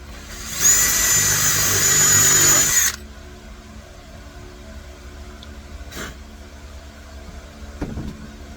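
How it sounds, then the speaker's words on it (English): A power drill countersinks a hole, giving a steady high-pitched whine of about two seconds close by, followed by quiet with faint handling knocks. "We countersink."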